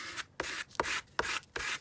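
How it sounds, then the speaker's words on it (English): A glue spreader drags back and forth across paper in five or six scraping, rubbing strokes, each a short broadband swish separated by brief pauses, close and fairly quiet with no voices. "just then spread this out everywhere with my glue spreader."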